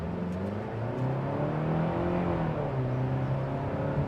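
A 2025 Hyundai Santa Cruz SEL pickup accelerates at about a third of throttle, its engine drone rising steadily in pitch under a continuous road and wind hum inside the cabin, with no talking.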